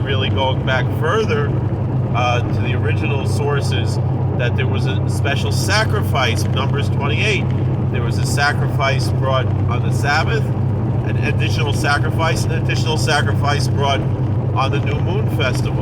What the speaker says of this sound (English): I'm sorry for the noise the car is making